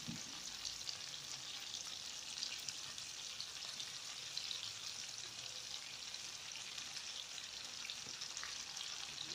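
Arugula sizzling steadily in a frying pan with beef strips, a dense, even frying hiss that holds at a constant level throughout with no talk.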